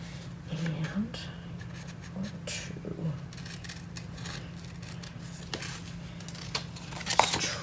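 Scissors snip and trim the paper corners of a Stamperia Christmas mini album, a few soft, close cuts and light scraping scattered through a faint room hum with no talk.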